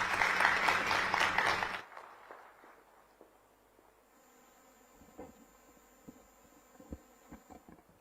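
Applause from a gathering at a formal government MoU signing ceremony in Odisha comes through as a loud burst of clapping in the first two seconds, then fades to a quiet hum with scattered faint knocks and thumps.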